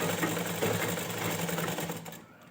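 A sewing machine stitches a seam on a pajama, making a close, continuous rapid mechanical whir that tapers off near the end.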